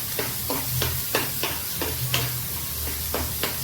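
Onion and curry leaves fry in a hot pan for mutton curry, giving a steady loud sizzle with regular stirring scrapes about every third of a second, close by.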